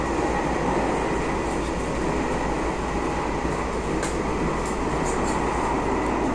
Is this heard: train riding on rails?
yes